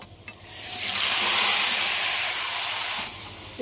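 Loud burst of sizzling as vegetables hit hot oil with garlic tempering in a pan, a sudden hiss that swells and holds steady for a few seconds before easing off.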